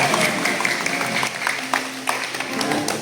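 A group claps steadily for children at an altar server induction ceremony, with scattered sharper hand claps, while voices carry on underneath the applause.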